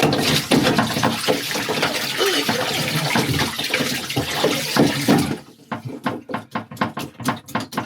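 Seawater pours and splashes into a sailboat during an ocean crossing, a dense rushing gush for several seconds that then breaks into scattered drips and sloshes, close and loud.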